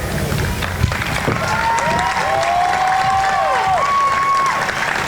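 Graduation-ceremony audience at Widener University's 2011 commencement applauding the standing trustees: a dense, sustained roar of clapping and crowd noise, with faint gliding whistle-like tones drifting through the middle.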